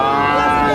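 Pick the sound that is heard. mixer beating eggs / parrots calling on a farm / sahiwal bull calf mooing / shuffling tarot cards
sahiwal bull calf mooing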